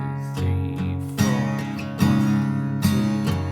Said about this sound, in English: Let's just strum the chords.